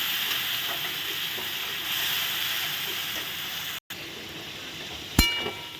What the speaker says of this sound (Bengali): আলু ভেজে তুলে নিয়েছি একই তেলে আমি এখন দিয়ে দিব টমেটো পেস্ট